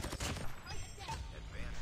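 Gunfire in the mobile shooter game COD Mobile: a quick burst of overlapping shots up front, then scattered game effects, at a moderate level with faint voice-like sounds mixed in.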